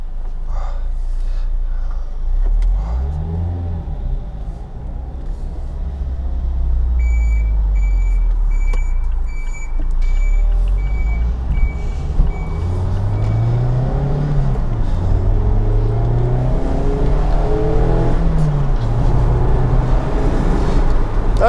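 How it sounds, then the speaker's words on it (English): Wind rushing over an open Mazda MX-5 RF with the roof down at about 45 mph, a steady loud roar mixed with engine and road noise, with a few faint beeps in the middle and no talking. "There's a lot of wind noise that's just come off the top of the car."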